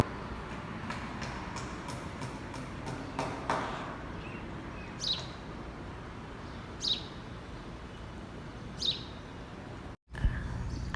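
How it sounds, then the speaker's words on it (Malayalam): Small birds chirp outside near an open terrace, a few short separate calls spaced a couple of seconds apart over steady low outdoor background noise, moderately faint. "കിളികളുടെ ചെറിയ ചെറിയ ശബ്ദങ്ങളൊക്കെ ഉണ്ട്."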